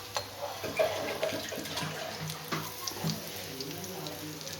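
Bread pakora frying in hot oil, a steady broadband sizzle and crackle with small bursts, heard close under a voice talking.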